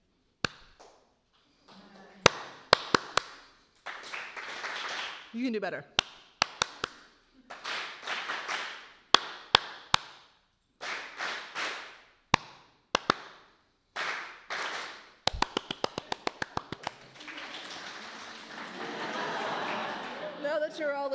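In a classroom, a teacher claps out short rhythmic patterns and groups of students clap them back. Sharp claps come in bursts separated by silences, with people talking and chuckling between them.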